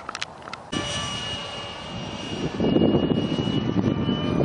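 A Bat Wing 70mm EDF RC jet flies, its electric ducted fan a steady high whine with a rushing roar that builds louder toward the end, heard alone from a moderate distance.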